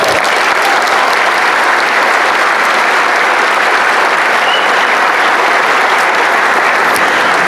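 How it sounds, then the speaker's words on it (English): Applause from a large crowd at a high school graduation ceremony, loud and continuous, forming a dense, steady wash of clapping that fills the space for several seconds without any talk. "Let's give Joe a little bit of a round of applause."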